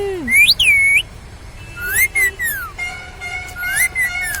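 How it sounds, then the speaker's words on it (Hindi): A pet parrot whistles several bright, sliding whistles up close, in short bursts with brief pauses between them, while a faint voice speaks in the background. "इतनी प्यारी सीटी बजा ले मेरे बेटा।"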